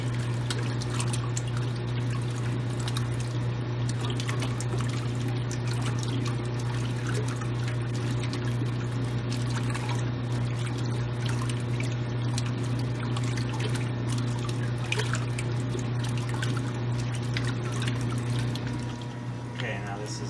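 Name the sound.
1978 Kenmore washer with dual action agitator running first wash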